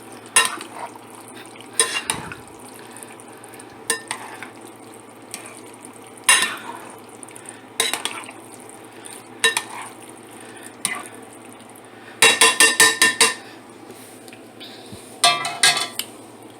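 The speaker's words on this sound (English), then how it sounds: "And you want to toss your noodles." Noodles tossed in a pan of creamy Alfredo sauce, with repeated scraping and clinking of a utensil against the pan in uneven bursts and soft wet stirring between them.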